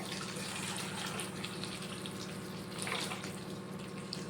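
Water pours steadily into a jar, a continuous splashing gush with no pauses.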